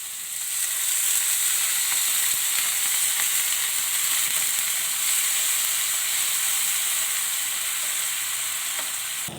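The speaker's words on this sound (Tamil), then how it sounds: "இப்போ லைட்டாக தண்ணி தெளித்து வேக வச்சுக்க வேண்டியதான்." Potato fry with chili paste sizzles hard in the pan after a light sprinkle of water, a steady close hiss of frying and steam running throughout with faint stirring scrapes.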